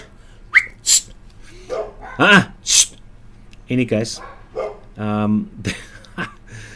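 Dogs bark in sharp, scattered bursts close by, interleaved with someone speaking briefly.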